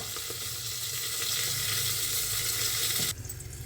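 Potatoes and flat beans frying in a covered pan over a medium-high flame give a steady, dense sizzle that runs unbroken and fairly loud, then shifts to a slightly different crackle near the end.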